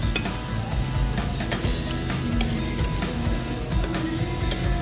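Mushrooms and beef sizzle on a hot grill pan at a Thai-style moo kata buffet in Korea, a steady close crackling fry with scattered pops and a low background hum throughout, no talk.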